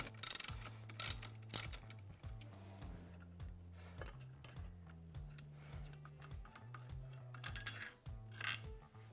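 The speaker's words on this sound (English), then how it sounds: "Then we're gonna loosen this up using a socket and ratchet." A socket and ratchet work on the primary clutch of a Polaris ATV, giving a steady run of close mechanical clicking with a repeated whirring, pulley-like tone throughout, no talking.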